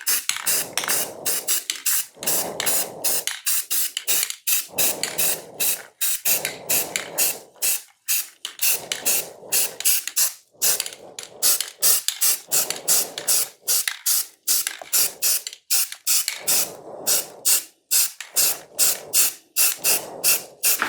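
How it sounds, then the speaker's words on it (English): Black spray paint hisses from an aerosol can in a long series of short, sharp bursts separated by brief pauses, loud and close with no voices. "we're ready to spray some black"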